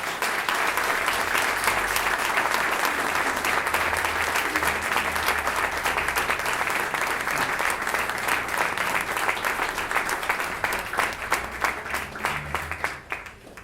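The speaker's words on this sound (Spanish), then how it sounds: "Un aplauso para ellos." A gathered audience applauds in a long, even round of clapping at a commemorative talk, dense and sustained throughout, thinning slightly in the final seconds, with no talking over it.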